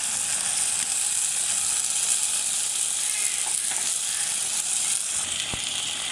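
Water poured onto fried onions in a hot pan gives a steady, moderately loud sizzle and hiss that runs unbroken with a few faint clinks, no talking.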